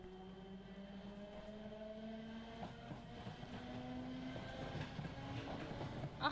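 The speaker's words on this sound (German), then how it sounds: "Ja, da ist die Straßenbahn." A tram passes in a Roblox city, heard as a steady mechanical hum with faint tonal whines that slowly rise, plus soft rattling wheel clicks, continuous and moderately distant throughout.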